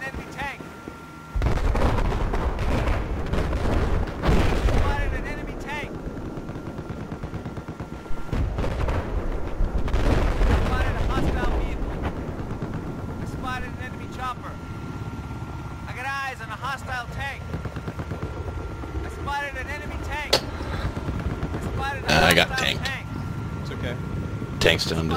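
Tank combat in Battlefield 4 brings heavy cannon blasts and explosions over a constant rumble of engines and battle noise, with booms at irregular intervals and voices talking throughout.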